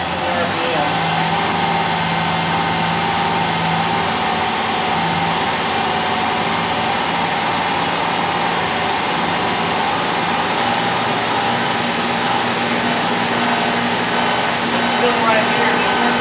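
A car engine held at raised RPM to help it warm up, with a steady, continuous drone and whine at an even level throughout, with no clear change in pitch.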